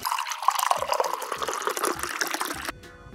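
Water poured steadily into a small toy kitchen pan, a bright continuous splashing trickle for about three seconds that stops abruptly near the end.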